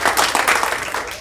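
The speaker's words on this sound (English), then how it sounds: "You don't have to do a golf clap" Light, polite golf clap from a comedy-club audience, a brief patter of scattered hand claps that fades quickly.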